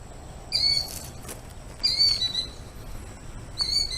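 Killdeer calling near a driveway, three shrill piercing cries spaced a second or so apart, fairly close, over a low outdoor background hum.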